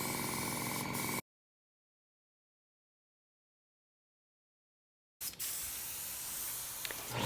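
An automotive paint spray gun hisses as it lays primer onto a car body in a driveway, two short steady bursts separated by a long silent gap, near and moderately loud.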